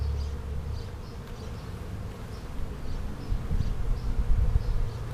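A steady, dense hum of many honeybees buzzing around a hive, with the drone swelling and fading slightly. Close by, no talking.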